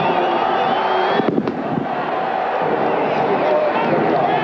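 A football crowd roars loudly and steadily in the stands as the kickoff approaches at a 1989 Lafayette–Lehigh college game, with a few sharp bangs or pops standing out briefly against the dense, continuous din.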